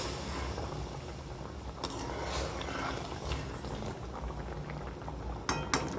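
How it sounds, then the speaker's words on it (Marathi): Water bubbles at a steady, vigorous rolling boil in a pan for coarse semolina sheera, a continuous close-up churning hiss with a few sharper metallic clinks near the end and no talking. "पाणी गरम होतल्यामुळे जरा लांबूनच होता, अंगावर येऊ शकतं गरम पाणी"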